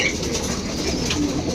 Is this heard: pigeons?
yes